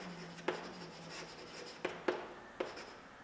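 A pen writes on paper in short scratchy strokes, with a few sharper taps as the tip meets the page, faint and close with no one speaking.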